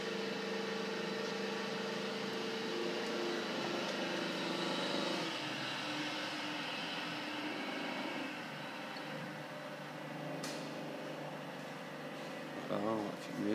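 A Bepex Kompactor compactor machine runs at low speed with a steady mechanical hum and whine, its rollers turning. A person talks over it near the end.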